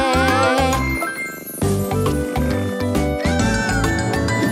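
A cartoon cat meows in a children's Halloween song, with the meows woven into a bright, loud musical backing with a steady bouncing beat and tinkling accents.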